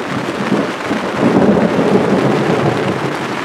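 A thunderstorm rolls overhead, with a broad, continuous rumble of thunder swelling midway, mixed with the steady hiss of rain, loud and close with no speech.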